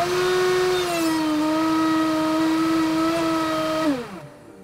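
A router with a flush trim bit whines loudly at a steady high pitch, then winds down as it is switched off.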